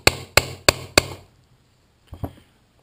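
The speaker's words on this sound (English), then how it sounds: "you simply tap it in place" Four sharp, evenly spaced metal taps ring out close by as a Harley rocker locker is knocked into place, followed after a pause by two softer, lighter taps.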